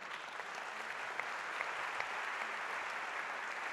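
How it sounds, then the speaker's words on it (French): Steady applause from an audience at a French business conference on entrepreneurship, a dense even wash of clapping with a few sharper individual claps standing out, sustained throughout without speech. "vous pouvez l'applaudir"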